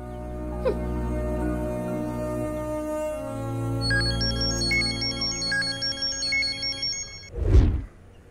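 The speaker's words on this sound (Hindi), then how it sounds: "कौन कॉल कर रहा है? जाके तेरा फोन उठाना" A mobile phone ringtone plays a repeating electronic melody over a low background hum, moderately loud and close, ending with a brief thump.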